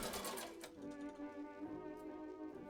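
Domestic sewing machine top stitching dress fabric over trimmed interfacing, a steady close mechanical whir with a rapid needle rhythm running throughout, with no voices.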